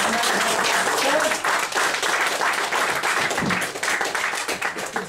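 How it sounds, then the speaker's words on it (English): A crowd at a comedy mind-reading stage show claps loudly and continuously, dense applause filling the whole stretch with no pause. "Give them both a round of applause."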